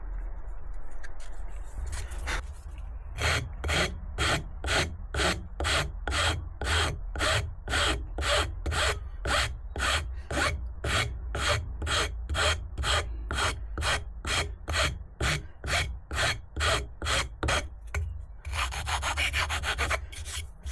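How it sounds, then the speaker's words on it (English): Plywood filed down by hand while fitting LED touch lights: about thirty steady, evenly spaced rasping strokes, close and loud, running without pause for most of the stretch with no talking. "So what I'm trying to do is just file it down with a"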